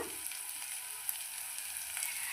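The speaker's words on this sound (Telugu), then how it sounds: "పచ్చివాసన పోయే వరకు ఇలా మంచిగా వేయించుకోవాలి" Ginger garlic paste frying in a pan, a steady close hiss and sizzle with faint crackles running throughout, no voices.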